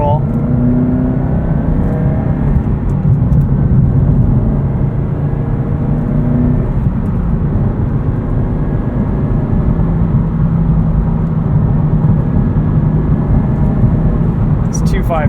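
Turbocharged 2.5-litre engine of a 2017 Subaru WRX STI with lifted rally suspension, heard from inside while driving as a steady, fairly loud drone with shifting tones and light road noise underneath.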